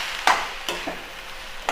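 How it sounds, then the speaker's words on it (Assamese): A spoon stirs rice-flour paste loosened with water in a pan, giving a few soft scraping strokes at irregular intervals, close and fairly quiet, with no talk. "এনেদৰে ভালদৰে লৰাই লৈছোঁ"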